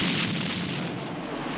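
Rockets firing from the Little Nelly autogyro, fitted with air-to-air missiles, machine guns and sidewinders, for Moonraker film effects: a loud, continuous roaring whoosh of launches that barely fades over its short length.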